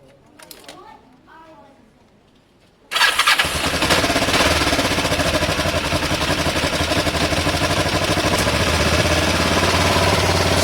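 A Kawasaki ER5 motorcycle running on the fuel left in its carburetors: someone talks briefly, then after a short quiet gap the engine fires and settles into a loud, close, continuous twin-cylinder idle with a rapid, steady pulsing.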